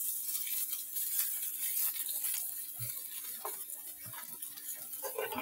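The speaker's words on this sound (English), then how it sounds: "I'm just gonna put that in the pan and let those start sauteing" Sliced half of a large yellow onion sautéing in oil in a pan, giving a steady soft sizzle with occasional small stir clicks, close and fairly quiet throughout.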